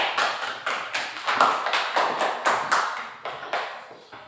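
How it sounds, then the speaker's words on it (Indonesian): Applause from a classroom of students, a steady run of quick hand claps carried in close, bursting rhythm for several seconds with no talk over it. "Kasih aplaus untuk kita."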